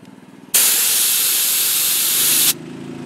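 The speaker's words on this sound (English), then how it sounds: "So I could sit here and spray this all day long and it's not going to go down in pressure." Compressed air from a mobile air injection setup with a 100% duty-cycle compressor blasts out in one loud, steady hiss lasting about two seconds, starting and stopping abruptly against a low background rumble.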